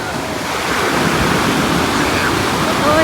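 Ocean waves break on a beach where people are bathing in the sea, a loud steady rush of surf and wind noise that swells slightly toward the end, with a voice speaking briefly.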